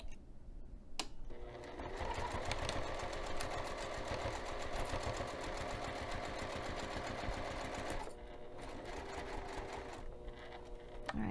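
A sewing machine stitches through a bag pocket at a slow, steady pace, its rapid even chatter running continuously at close range with brief pauses near the start and end.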